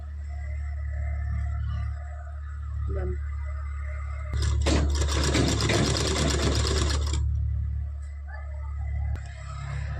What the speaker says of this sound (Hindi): नीचे ब्लाउज़ को रख के ऊपर से इस पर सिलाई चलाएंगे